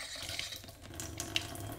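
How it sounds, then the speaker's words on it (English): Water runs from the tap of a drink dispenser in an abandoned restaurant, a steady close hiss of flowing liquid for the whole short stretch with a few small splashy peaks and no talk. "Okay, so the electrical's cut, but the water is still running."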